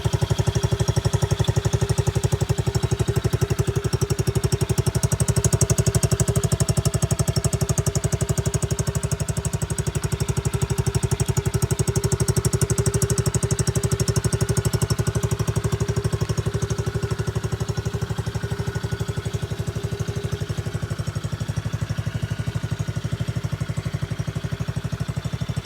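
An X-Pro Bolt 110cc automatic bike's small engine runs steadily at idle with a droning, even rumble, close and constant for the whole stretch with no talking.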